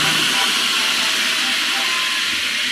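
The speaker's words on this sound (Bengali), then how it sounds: "এখানে দম বিরিয়ানি রান্না চলছে" Steam hissing from a large pot of dum biryani cooking, a loud, steady, broad hiss close by that continues unbroken throughout.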